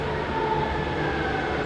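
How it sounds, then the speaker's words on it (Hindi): A metro train pulls into a station in Nanjing, China, its steady rumble and rising hum filling the platform, with no voices over it. "इधर आएगी हमारी मेट्रो।"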